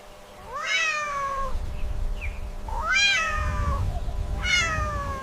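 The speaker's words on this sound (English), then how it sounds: "It's a cat." A cat meows three times, each call a clear rising-then-falling cry spaced about a second apart, close and distinct over a low background hum.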